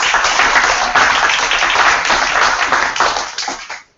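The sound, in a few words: audience applause for award winners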